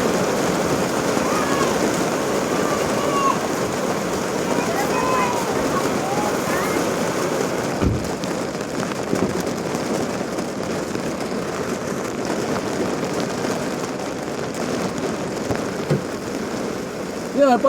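Rain falling steadily on a house, a dense hiss of drops continuing throughout with faint voices underneath and a brief louder disturbance midway.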